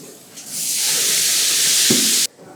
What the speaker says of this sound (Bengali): দেখুন এখন আমি এই তার মধ্যে আমি অল্প করে কিছুটা জল দিয়ে দিচ্ছি